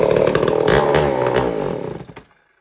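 A Homelite Super 1050 chainsaw fitted with a small bar and 404 pitch chain coughs into life and runs roughly, loud and close with a pulsing engine, then cuts out and falls silent.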